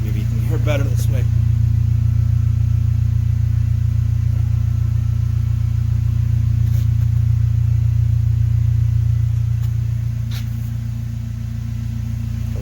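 Close, steady low exhaust drone from an idling Mercedes W204 C250 with an aftermarket Armytrix downpipe, holding a constant rumble throughout with only a few faint clicks, and someone speaks briefly near the start.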